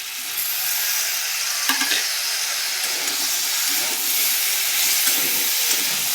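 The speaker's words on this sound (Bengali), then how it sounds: "টমেটোটাকে দিয়েও একটু আমি কষাবো।" Tomato being sautéed with mixed vegetables in a hot pan, giving a loud, steady sizzle and hiss with occasional stirring scrapes. Close and continuous, with no talking.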